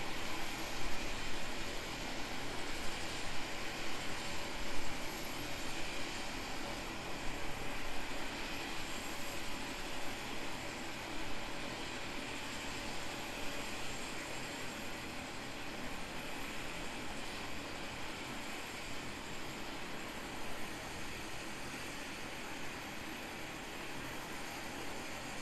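An Airbus A320 climbing out after takeoff from snowy alpine Queenstown Airport, a distant steady jet engine roar that holds broad and even, then slowly thins as it fades, with no voices.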